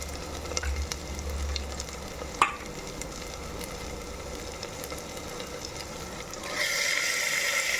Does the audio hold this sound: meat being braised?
yes